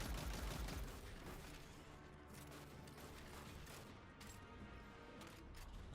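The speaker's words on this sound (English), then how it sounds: "I decided to use an arc machine gun instead of a rocket" An arc machine gun fires rapidly at a Cabal major in Destiny 2, a dense, fast burst of automatic fire running continuously under layered game effects, loud and close.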